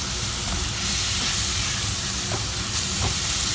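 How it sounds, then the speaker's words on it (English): Coarsely chopped tomatoes added to onions and spices in a hot pan for matar paneer, heard as a steady, loud sizzle and hiss, with a few faint stirring scrapes. "I'm going to add the coarsely chopped tomatoes and"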